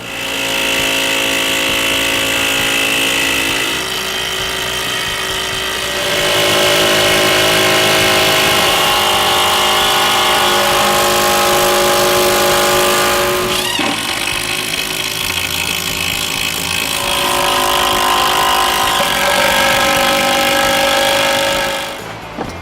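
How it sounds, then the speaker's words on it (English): Hitachi brushed and brushless cordless impact drivers sink 75mm batten screws into 63mm LVL, a loud sustained whine and rattling hammer of each tool running for several seconds, in successive runs with brief pauses between. "These guys will be tested with driving 75mm batten screws into this 63mm LVL in a staggered pattern"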